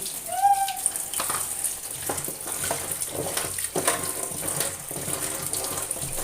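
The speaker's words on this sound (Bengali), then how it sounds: "আলু এবং বাকি কলাগুলো ধুয়ে নেব" Running water from a tap splashes steadily in a sink as potatoes and green bananas are washed under it, close and continuous, with light clatter of handling in the stream.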